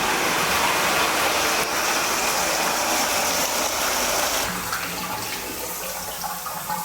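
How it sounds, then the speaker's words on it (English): Water gushes hard from a bathtub faucet in a fixer-upper house, a loud steady rushing stream that drops off and thins after a few seconds as the flow is cut back. "Water comes out with a force"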